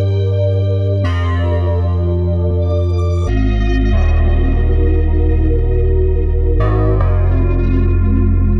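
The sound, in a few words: Diva HS Black Fuzz bass preset pitched up 9 semitones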